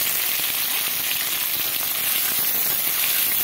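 Paneer pieces frying in oil, giving a constant even hiss of sizzling that stays close and unbroken throughout, with no other sounds.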